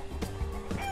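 Chickens in the video game Bad Guys at School giving a couple of quick clucks within a second, close and clear over a faint steady background hum.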